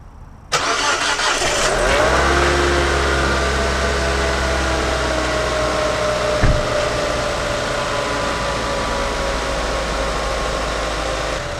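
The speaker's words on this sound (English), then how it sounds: "So let me crank it up to see how it sounds." A Mazda Protege5 engine, just fitted with a new timing belt and water pump, cranks briefly, catches and settles into a steady, loud idle that runs evenly to the end.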